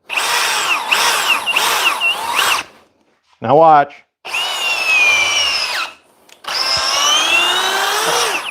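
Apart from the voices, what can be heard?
Milwaukee M12 power drill running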